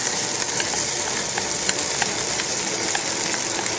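Cooked rice drops into a hot pot for arroz caldo, and a steady, dense sizzle and crackle carries on evenly throughout, close and fairly loud, with no talking.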